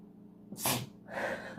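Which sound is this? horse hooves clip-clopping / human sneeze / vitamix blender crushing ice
human sneeze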